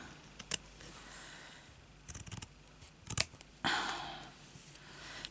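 Scissors snip through paper while cutting out a hexagon shape, a few sharp isolated clicks followed by longer rasping cuts, close up and fairly loud in a quiet room with no one talking.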